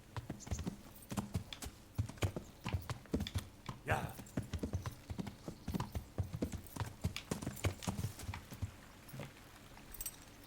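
Horse hooves clip-clop at a steady walking pace in the video game Kingdom Come: Deliverance, close and rhythmic, with a brief whinny partway through over quiet ambience.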